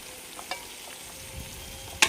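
Village-style country chicken curry being stirred in a pan after chilli powder, turmeric and curry leaves go in, with soft scraping and stirring strokes over a faint sizzle and a sharper clink near the end.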